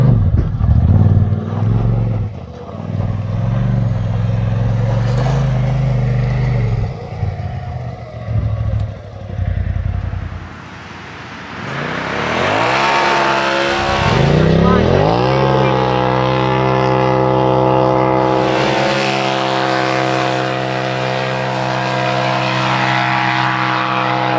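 A 2020 Polaris RZR Pro XP side-by-side idles, then revs and accelerates hard from 0 to 60 across a field in Mexico, its engine climbing loudly through gears with people talking early on.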